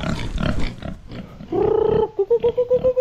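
A pig grunts close by in a series of short, rhythmic nasal grunts, following a brief moment of muffled snorting and shuffling.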